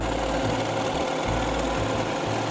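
A sewing machine runs steadily, stitching canvas fabric along the edges of a bullet journal cover, with a continuous close mechanical whir and short rhythmic pauses.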